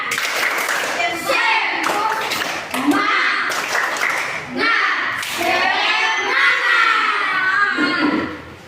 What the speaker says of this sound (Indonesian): Ayo, ayo, tepuk semangat dulu, ayo.